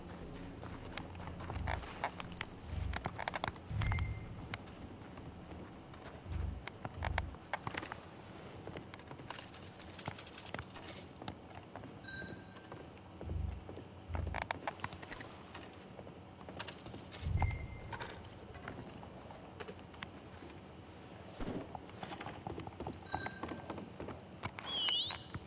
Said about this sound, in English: Come on, horse. Stop being lazy. Come on, run.